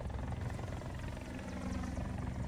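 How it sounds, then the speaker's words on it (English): A helicopter in the War Thunder combat game drones with a steady, dense rotor thrum and engine roar that stays loud and continuous throughout, without any talking. "Helicopters sound amazing."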